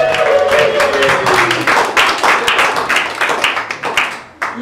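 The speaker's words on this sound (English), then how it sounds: "let's give a round of applause" At an awards ceremony, a Christmas event, an audience claps in a rippling burst, individual claps distinct and fairly close, thinning near the end.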